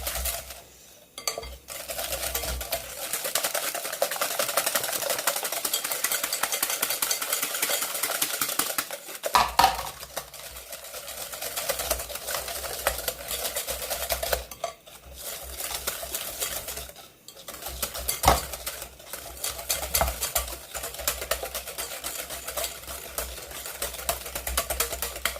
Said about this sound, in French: il vous suffit de battre donc le mélange. Et il faut que ça soit mousseux